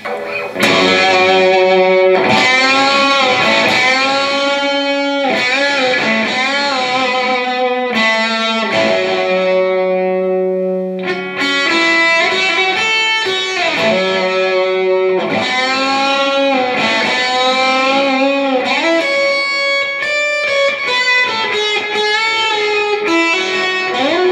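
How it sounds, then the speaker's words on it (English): A 2012 Gibson Firebird 70's Tribute electric guitar, heavily distorted, plays sustained chords and sliding notes, loud and continuous, with a gritty, saturated tone throughout. "let's try some distortion"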